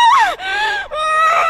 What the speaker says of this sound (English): Just the extended screams, and that's it.